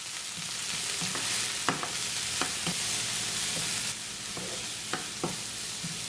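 Onion, green chili and curry leaves sauté in a pan for spinach vadai, a steady close sizzle broken by soft scrapes and taps of a stirring spoon, with no voices.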